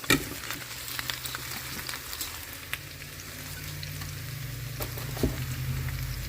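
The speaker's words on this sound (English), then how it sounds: "once your onions start to get translucent, then you just go ahead and put your sliced potatoes in" Sliced potatoes and onions frying together in a pan, a steady soft sizzle with occasional crackles and a brief scrape or clink of stirring, close and moderately quiet with no talking.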